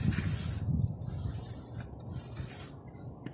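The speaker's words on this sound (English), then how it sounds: "Just give it a little rinse with some brake clean" Aerosol brake cleaner hisses in short close bursts onto the grease-covered outer CV joint of an Audi TT front axle, several sprays with brief pauses and dripping between them.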